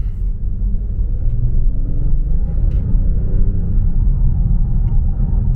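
A 2021 Range Rover Velar P400 accelerates, its deep engine rumble steady and close with a gentle rise in tone as speed builds, no talk over it.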